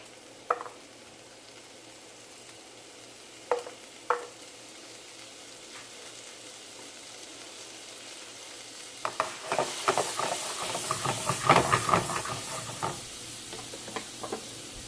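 Garlic hits a hot pan of butter with big turkey drumsticks, a few sharp clinks first, then a loud, dense sizzle and spatter that swells in the second half and keeps crackling under stirring.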